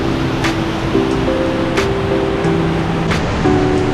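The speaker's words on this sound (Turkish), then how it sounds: "Çok büyük bir şelale değil." The small Sait Abat waterfall in Kestel, Bursa, rushes in a steady, broad hiss. A few faint tonal sounds sit above it, and no one speaks.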